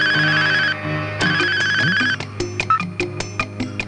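A telephone rings with repeated electronic tone bursts, loud and close, before sharp clicks and handling knocks follow as the call is picked up; no talk is heard.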